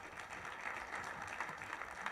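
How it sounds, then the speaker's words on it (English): Audience applause for Evan Stites-Clayton, Teespring co-founder and CTO, after a talk at IST Startup Week 2016; a steady, fairly quiet patter of many hands clapping throughout, with no talk over it. "let's give Evan a round of applause"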